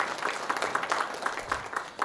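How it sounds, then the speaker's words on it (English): Soft applause from an audience at an architecture and interior design awards ceremony, a steady wash of many hands clapping at moderate distance, fairly faint and even throughout. "can we give a little pat to each other with a little clap?"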